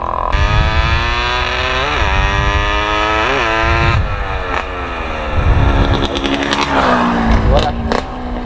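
A Yamaha RXT135 drag bike's two-stroke engine screams at high revs during a clutch test, rising and falling in sharp blips and a sustained rasping whine, loud and close, with voices talking beneath it.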